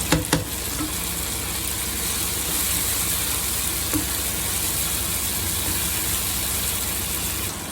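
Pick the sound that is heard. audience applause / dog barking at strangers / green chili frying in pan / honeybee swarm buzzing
green chili frying in pan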